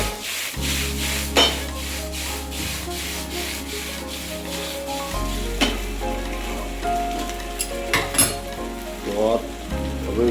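A spoon scrapes and stirs pieces of semolina dhokla tossed in hot oil in a pan, giving a close, continuous rubbing and sizzling sound with occasional sharper clinks against the metal.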